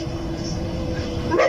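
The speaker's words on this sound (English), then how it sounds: "the barking of the dogs" Street dogs bark in a noisy outdoor setting, with a brief, sharper bark rising out of steady background noise near the end.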